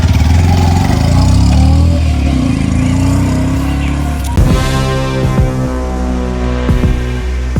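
A motorbike engine idles and revs nearby on a village street in a Gujarati short film setting, a steady mid-pitched drone that shifts in pitch partway through, with faint voices in the background.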